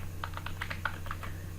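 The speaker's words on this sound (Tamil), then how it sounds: "நான் சும்மா டைப் பண்ணி கொடுக்குறேன்" Quick, light keystrokes tapping on a desktop computer keyboard, around a dozen soft clicks in irregular rhythm close to the microphone, over a low steady hum, with no speech.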